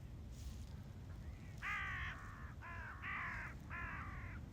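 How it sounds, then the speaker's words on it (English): Several crows caw in a countryside nature reserve at Ballantrae, Scotland: a series of harsh, repeated calls, moderately near, over a low steady background rumble. "It just got bombed by crows."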